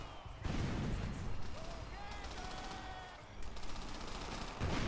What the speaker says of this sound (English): Throw the grenades everywhere!